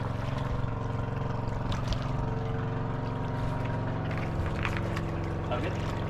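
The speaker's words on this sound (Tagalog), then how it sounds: "Wala day, dumaan yung bangka day." Steady engine drone of a motorboat passing on the water, loud and continuous throughout, with faint voices underneath.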